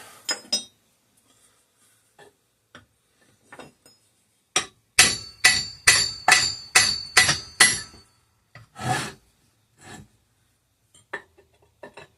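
Hammer blows clang on a seized air compressor pump, a tight burst of about eight loud, ringing metallic whacks, preceded and followed by scattered lighter taps and clinks.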